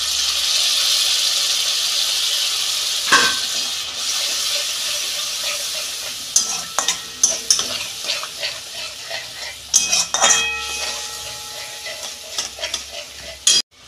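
Curd hits hot oil in a pan for Bengali-style doi katla fish curry, setting off a loud, hissing sizzle that gradually softens while sharp spoon scrapes and clinks from repeated stirring take over.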